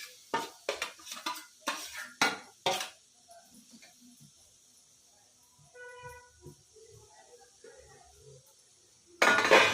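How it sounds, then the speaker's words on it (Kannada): Grated carrot is stirred and roasted in ghee in a pan for carrot halwa, with a quick run of scraping, clinking spoon strokes for a few seconds, then near quiet, and a brief burst of noise at the end. "ಇದಕ್ಕೆ ಕ್ಯಾರೆಟ್ ಹಾಕಿ ಹುರ್ಕೊತಾ ಇದ್ದೀನಿ ನಾನು ತುಪ್ಪದಲ್ಲೇ ಹುರ್ಕೊಬೇಕು"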